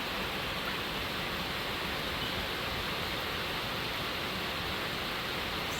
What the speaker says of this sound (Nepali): पानी परिरहेछ अझै पनि।